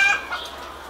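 Chickens in a barn give a brief cluck and short squawk nearby, with faint background clucking.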